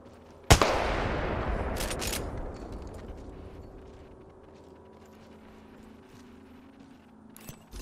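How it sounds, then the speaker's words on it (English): Apex Legends gunfire: one sharp loud shot with a long decaying echo, a couple of quieter bursts right after, and more faint shots near the end. "Opening fire on the enemy."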